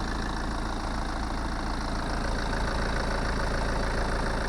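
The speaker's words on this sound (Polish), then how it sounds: "Szczerze mówiąc silniczek pracuje równo. Ładnie terkocze." A BMW Touring's engine idles steadily in a close, loud, even mechanical drone with a fine rapid ticking rhythm, and no voices.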